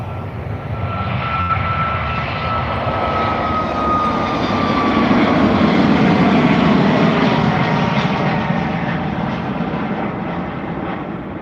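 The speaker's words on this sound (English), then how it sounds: "taking off, we have a Ryanair Boeing 737" Ryanair Boeing 737 MAX 8-200 jet taking off at Dublin Airport, a loud sustained engine roar that swells and then slowly fades, with a faint whine running through it.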